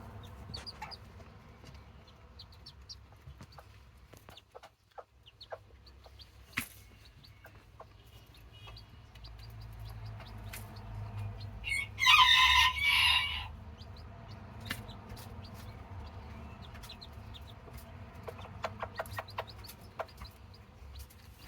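A Serama hen with her day-old chicks: soft, low clucking runs through a quiet background, with a brief louder burst of higher chirping and clucking midway, close by and without talk.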